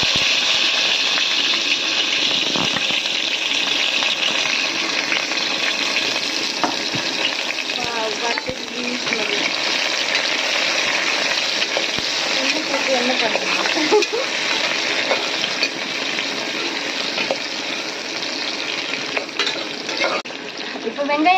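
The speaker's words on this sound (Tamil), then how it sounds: "நல்லா வதங்கட்டும் வெங்காயம்" Onions sauté in biryani oil with fennel seeds inside a pressure cooker for tomato rice, giving a close, steady sizzle broken by occasional stirring scrapes and bubbling throughout.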